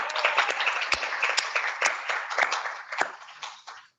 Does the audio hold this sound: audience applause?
yes